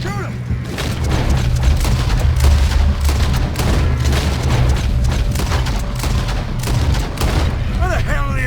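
Dense gunfire erupts in a Red Dead Redemption 2 train robbery mission, with loud booming shots and rapid volleys continuing throughout, mixed with game sounds.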